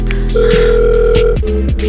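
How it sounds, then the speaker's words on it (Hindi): Phone ringing out with no one answering, a loud steady electronic tone close up that holds, breaks briefly and resumes, with no voices. "वो फोन भी नहीं उठा रहा।"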